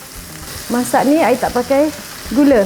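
Chicken popcorn sizzles in a frying pan as condensed milk is poured in for a salted egg sauce, a soft steady frying hiss running beneath a woman's continuous chatter.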